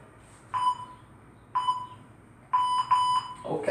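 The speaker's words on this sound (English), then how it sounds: "wait for that double beep again." A workout interval timer sounds clear electronic beeps: three spaced single tones, then a quick double beep, with a brief clatter at the end and no talk.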